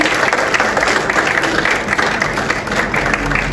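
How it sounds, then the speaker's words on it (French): Steady, dense clapping from an audience at a book launch for a work on Congolese public procurement law, sustained at full strength for several seconds. "Est-ce qu'on peut applaudir s'il vous plaît?"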